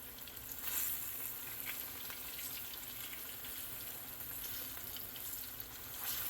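Puerto Rican queso frito fries in a pot of oil, giving a steady, soft, even sizzle with faint crackles. No one speaks over it.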